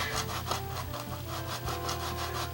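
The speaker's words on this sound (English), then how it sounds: "So I'm just going to dry rub over these areas right on top of my varnish." A paintbrush dry brushing acrylic paint over a varnished surface, giving close, rhythmic scratchy strokes back and forth with a steady rubbing texture.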